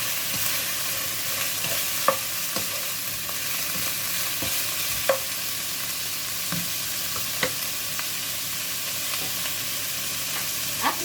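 Pork ribs fry in a pan with a steady, dense sizzle, broken by occasional clacks of stirring or the pan being moved, with no talking.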